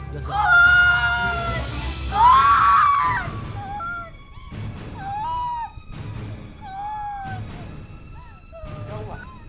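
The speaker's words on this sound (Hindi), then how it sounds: "आप चिल्ला क्यों रही है?" A woman screams and wails in panicked fright during a tense scene in a crime drama, loud drawn-out cries at first, then repeated shorter anguished shrieks over a low background rumble.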